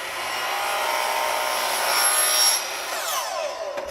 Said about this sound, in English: Last step is to cut the rail cap.